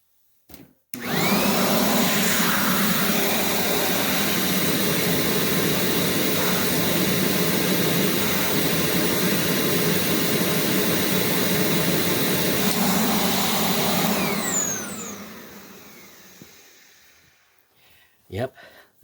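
A Panasonic vacuum cleaner switches on and runs with a loud, steady rushing whine of air from the hose end for about fourteen seconds, then spins down, with brief handling noises at the start and end.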